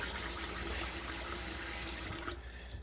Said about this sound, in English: So I'm going to drain that off. Just give it some more water,